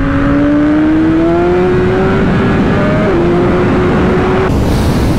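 Moto Morini 1200 Corsaro ZT twin-cylinder motorcycle engine revving loud and close, its pitch climbing steadily under acceleration, dipping briefly at a gear change, then pulling again before cutting off.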